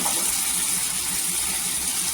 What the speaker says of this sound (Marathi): आता इथे आहे ना पाणी टाकायचं. पाणी गरम घ्यायचं, कोमट पाणी करायचं असं.